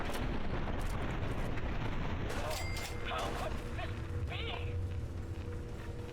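A gauss rifle in Fallout 3 fires a sharp blast followed by a rumbling, crackling tail, with other combat noise and voices in the background.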